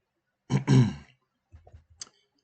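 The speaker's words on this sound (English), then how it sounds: "sorry, I have to clear my throat so much tonight" A person clears their throat once with a rough, close rasp, followed by a few small clicks and a soft mouth noise.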